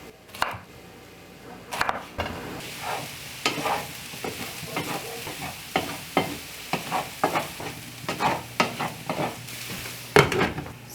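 Sweet potato pieces crisping in a pan over turned-up heat, with repeated scraping and stirring strokes over a low sizzle, close and moderately loud, no voices.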